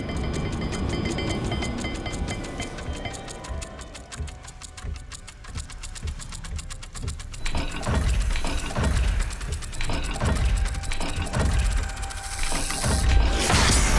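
A puzzle dial in Hogwarts Legacy clicks and ratchets as it turns, with grinding gear-like whirring that grows louder midway, set against a steady ambient game soundscape.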